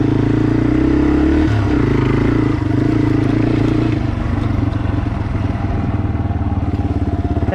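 Yamaha TW200 dual sport motorcycle ridden off-road, its engine droning steadily and loud throughout with shifting pitch and a faint clatter of the bike over rough ground.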